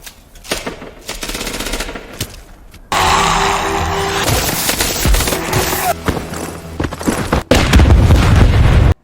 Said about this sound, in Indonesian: De Cruz mengorbankan dirinya dan berhasil meledakkan gerbang.